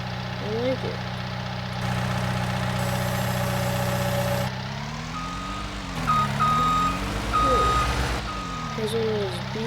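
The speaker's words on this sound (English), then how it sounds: "Has one of those backup lights or beeps." Repeated reversing beeps from a skid steer in the Farming Simulator video game, a steady pulsing alarm over a continuous mid-range engine drone, with a person talking at times.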